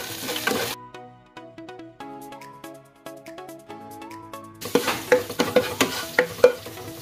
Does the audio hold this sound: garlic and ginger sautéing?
yes